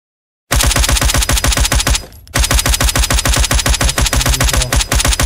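Suppressed automatic gunfire in the SSRP video game, a loud rapid train of muffled thumping shots in two long bursts with a brief pause between them.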